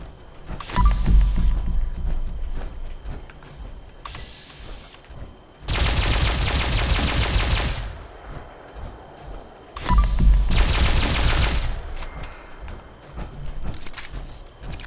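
The Alien Blaster weapon in Fallout 76 fires in two loud sustained bursts of rapid energy shots, each lasting about two seconds, separated by quieter game ambience with footsteps and small clanks.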